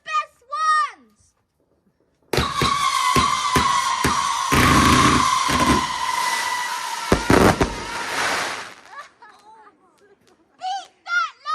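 Fireworks burst at a Bonfire Night display in 2023, a dense run of loud booms and crackling explosions lasting several seconds, with excited voices talking before and after the barrage.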